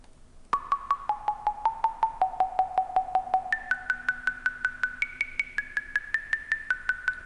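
A bright, plucky melody played one octave higher ticks along in even steady notes, first stepping downward, then jumping to a higher register for the rest of the phrase.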